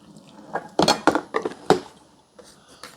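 Hot coffee pours from the glass carafe of a 14-cup programmable drip coffee maker, accompanied by several sharp clinks and knocks of the heavy carafe against a cup and a steady liquid splash between them.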